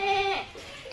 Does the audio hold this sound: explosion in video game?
no